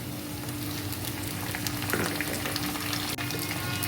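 Chopped tomatoes sizzle and fry in a pan of hot tempering oil, a soft, steady crackle with a few faint stirring scrapes and no talking.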